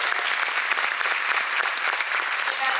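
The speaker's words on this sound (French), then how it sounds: "Est-ce qu'on peut applaudir pour eux, s'il vous plaît?" Applause from an audience at the Mboa Paris 2024 event, dense steady clapping filling the room from start to finish, loud and even with no pauses.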